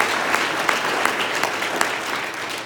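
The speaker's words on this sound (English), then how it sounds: "A round of applause for our representatives" Indoor audience at a political party committee meeting claps for elected representatives, a sustained dense patter of many hands with a few sharper individual claps standing out, steady throughout.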